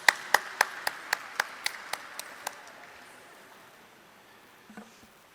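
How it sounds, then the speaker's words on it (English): A small group claps in sharp, separate beats that slow and fade over a few seconds at a corporate event stage, leaving a quiet room with a faint murmur afterward. "Let's have a huge round of applause for them"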